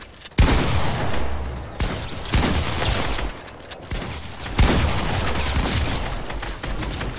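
Pump shotgun blasts in the video game Fortnite, several loud booming shots spaced a second or two apart, each with a sharp attack and a rumbling tail over continuous game noise.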